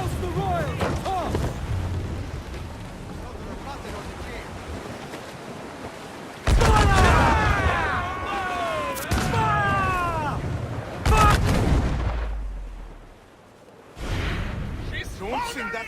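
Ship cannon fire in Assassin's Creed 4 Black Flag, several loud sudden booms breaking through wind and ocean surf, with shouting voices between blasts.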